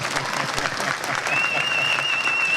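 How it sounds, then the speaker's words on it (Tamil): Applause from the audience at the audio launch of the Tamil film Thoongaavanam, a dense continuous clapping crowd filling the hall, with a thin high whistle-like tone running through the second half. "கை தட்டலாம்."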